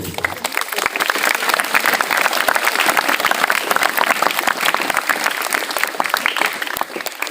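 Applause for a teacher at the end of a Ramadan school gathering of students, a crowd clapping loudly and steadily for several seconds, with faint talk underneath.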